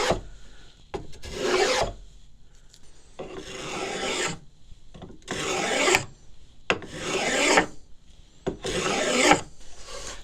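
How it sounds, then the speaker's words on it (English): Hand plane chamfering a wooden edge, five close rasping strokes, each a bright scraping pass about a second long with brief pauses between them, heard alone with no talk. "just giving it a nice little chamfer"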